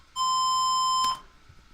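Loud rectangle wave tone switching polarity at audio rates, a steady harsh buzzy pitch held for about a second, then cutting off with a brief click, alone.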